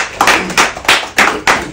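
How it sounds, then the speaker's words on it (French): Studio applause on a television set: a small group claps in distinct, evenly spaced bursts, about five or six close, loud claps with no talking. "applaudissements dans le studio pour Jean-Pierre"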